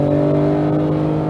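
A Porsche 911 GT3 991.2 engine accelerating hard on a race track, a loud steady engine drone heard from inside the car, brief and unbroken.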